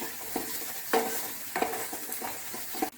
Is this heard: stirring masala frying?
yes